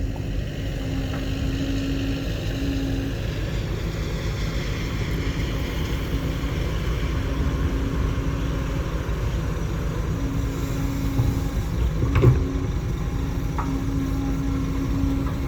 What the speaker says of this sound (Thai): าตุงก็ขับรถไถครับ